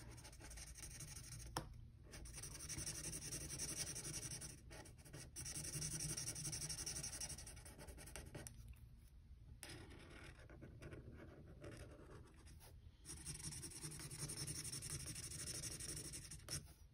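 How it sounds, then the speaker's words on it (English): A marker scrubs across paper while colouring a Zentangle design, making a continuous close scratchy rasp in long strokes broken by brief pauses. "I hope you like the noise of the marker scrubbing on the paper"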